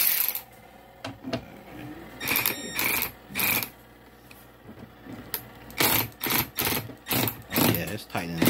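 A wrench ratchets in rapid clicking bursts as bolts are tightened on a portable washing machine during a repair, with repeated short strokes separated by pauses and a person speaking between them.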